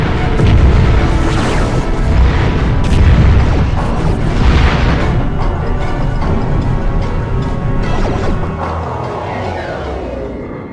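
A torpedo explodes in the Star Trek: Invasion video game, a loud booming blast followed by crashing debris and a long rumbling tail that slowly fades.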